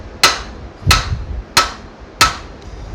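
Four sharp, evenly spaced hammer whacks ring out close and loud as a part is knocked loose on a Chevy Impala during engine and transmission removal, each strike decaying quickly into a short metallic tail.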